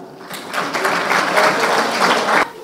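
An audience at the Global Urdu Poetry Festival claps loudly, starting abruptly, holding as a dense, even burst of applause and cutting off sharply near the end.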